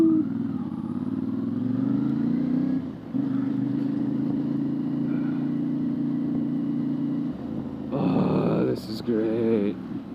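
A CFMOTO 450MT adventure motorcycle engine drones steadily at mid pitch while riding, holding a sustained note with a brief dip near three seconds before a rougher burst of revving near the end.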